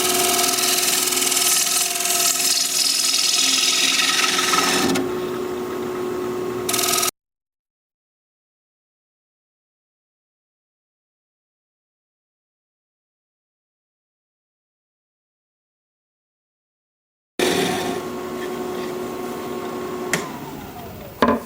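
Bowl gouge cutting an alder platter on a wood lathe, a loud continuous whirring and scraping close up, broken by a long stretch of silence before the cutting resumes.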